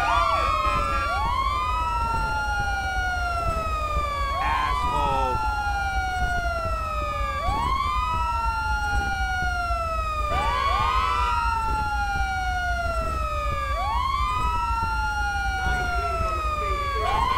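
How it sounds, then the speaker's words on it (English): Wailing police sirens from the video game GTA V with the LSPDFR police mod, several overlapping rising and falling sweeps cycling steadily and loudly over a constant low rumble for the whole stretch. "these sirens are going nuts"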